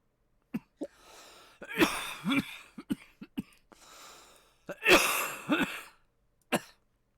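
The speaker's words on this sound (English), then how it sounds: "Overcome with coughing." Several harsh coughs and throat-clearing bursts in uneven fits, close and fairly loud, separated by short pauses.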